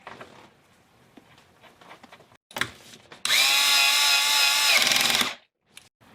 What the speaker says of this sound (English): Next, we'll put our screws back in.